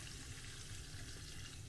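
Chicken pieces deep frying in hot oil for Japanese chicken nanban, a dense continuous crackling sizzle, faint and even, with no voices.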